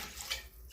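Water runs from a tap into canning jars in a home kitchen, a soft, steady rush of filling water, brief and fairly faint.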